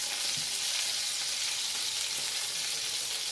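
Crab frying in hot oil with curry leaves, a steady dense sizzle and crackle that holds loud and even throughout with no talking.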